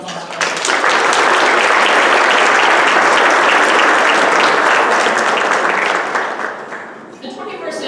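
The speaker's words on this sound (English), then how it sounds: "Please join me in a round of applause." Loud, sustained applause from a large audience at a scholarship induction ceremony, a dense even roar of clapping that carries on for several seconds before thinning out near the end.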